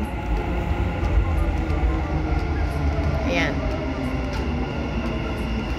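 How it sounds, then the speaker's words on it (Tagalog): A Dubai metro train pulls into a station with a loud, continuous rumble and a brief wheel squeal partway through, while people talk nearby. "So, andito na yung train."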